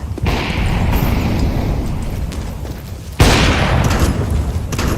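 A grenade blast in a first-person shooter, a sudden loud boom that cuts in midway through steady gunfire and battle noise, with the din staying heavy afterward.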